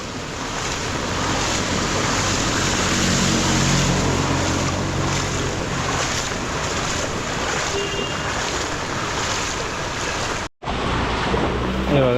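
Floodwater churned up by a passing auto-rickshaw on a flooded street in Nalasopara, Vasai-Virar, makes a loud, continuous rushing wash that goes on for most of the time before cutting out briefly near the end.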